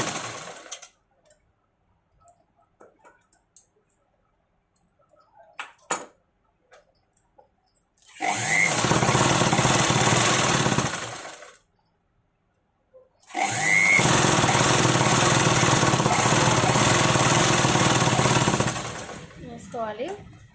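A sewing machine stitches a square blouse neckline in two long, loud, rapid whirring runs of about five seconds each, close up, after a quiet stretch of faint handling.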